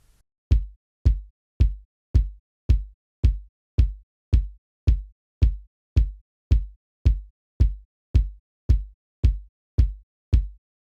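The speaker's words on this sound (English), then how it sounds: "So with the 2 sub kicks, I have something like this." A steady pulse of heavy, deep kick drum hits from two layered sub kicks for a seben beat in FL Studio, evenly spaced about twice per second, each booming low with a quick punchy attack, nothing else playing.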